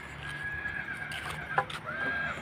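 Horse neighing outdoors, a clear whinny with a sharp peak partway through and a second call trailing off, over faint background noise and the hint of hooves.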